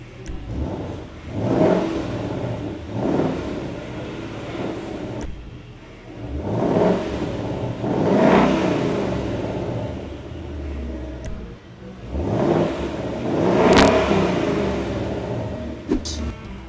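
A 2018-or-later car with a switchable exhaust offering quiet, normal, sport and truck modes revs in several separate bursts, each swelling loudly and then falling back to idle, with brief voices between the revs.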